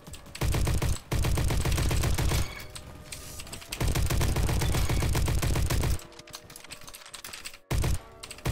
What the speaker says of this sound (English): This is surprisingly accurate while hip firing, though.